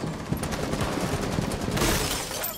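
Gunfire rattles in a Rainbow Six Siege match, a continuous busy crackle of shots and impacts at steady loudness with no clear pauses.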